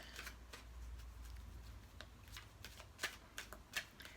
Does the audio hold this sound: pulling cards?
yes